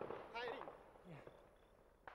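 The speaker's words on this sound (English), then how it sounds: "soon enough, the shooting begins." Faint, distant pops of gunfire from a Maoist night attack in Nepal, 2006, crack in the quiet night, with muffled voices murmuring in the background.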